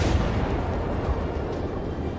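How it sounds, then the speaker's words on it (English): An M55 self-propelled gun firing in the War Thunder game produces a deep, heavy boom that rumbles and decays over a couple of seconds, loud and low with no voices. "It set a new record for the largest caliber gun firing conventional shells in ground battles."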